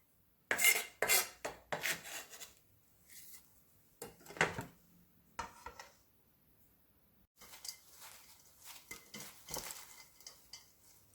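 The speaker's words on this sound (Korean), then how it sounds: "골고루 섞어주세요." Chive kimchi being tossed together with sliced green garlic, a run of close, wet rasping and rubbing strokes in uneven bursts with short pauses between, no talking.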